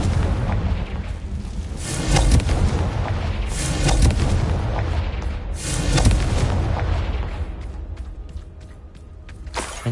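A Confringo blasting spell in Hogwarts Legacy sets off repeated loud booming explosions, several deep blasts rolling one after another with no voices, the last fading into quieter crackles.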